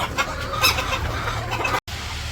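Chickens cluck at a village poultry farm, close, busy calls overlapping above a steady background, broken by one brief dropout.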